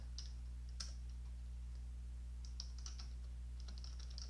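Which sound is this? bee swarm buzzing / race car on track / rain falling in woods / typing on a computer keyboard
typing on a computer keyboard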